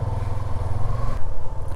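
A Suzuki V-Strom SX 250 motorcycle engine runs close by at a steady idle, a low, even thrum with pulsing loudness and a slight drop in tone partway through.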